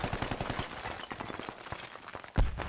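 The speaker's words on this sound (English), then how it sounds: "he's just got absolutely murdered by that mortar" Combat in the military shooter Squad: a burst of rapid, sharp gunfire cracks followed by a single heavy, booming mortar impact near the end, loud and close.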